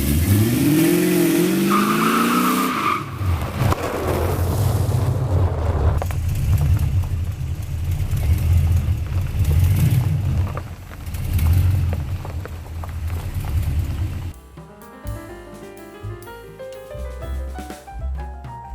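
A 1979 Camaro with a swapped-in LS V8 revs and drives: a loud, steady engine drone with rising and falling revs, brief tire scrub early on, then a shift to a different, rougher engine note near the end, with no talk.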